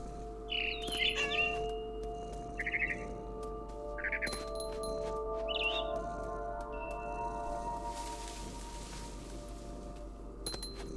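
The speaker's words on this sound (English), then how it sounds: "I tried to be quiet, but the bird was really scared." Short, bright chirps from a frightened bird in the game What Remains of Edith Finch come in a few separate bursts over steady ambient game tones, moderately loud and close, then give way to the background hum.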